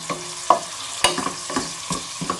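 Sliced onions sizzling in oil in a pan as a spoon stirs them, with soft scraping taps against the metal, close up and with no talking.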